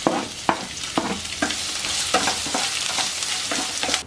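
Ginger and onions fry in hot oil in a pan, a loud continuous sizzle broken by a regular series of sharp scraping strokes as the pieces are stirred about every half second.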